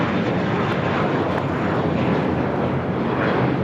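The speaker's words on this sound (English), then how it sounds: "This is JetBlue Airways Flight 424 taking off to JFK on the A321." A JetBlue Airbus A321 roars down the runway on takeoff, a loud, steady wall of jet engine noise filling the air without a break.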